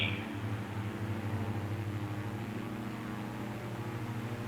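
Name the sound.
aircraft engine revving up, from video game Microsoft Flight Simulator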